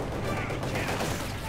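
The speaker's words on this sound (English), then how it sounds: "Machine guns raking down poor Heinrich" Dense, sustained machine gun fire rattles through a Company of Heroes 2 battle between Soviet and German forces, a continuous loud barrage with scattered shots blending into constant battlefield noise.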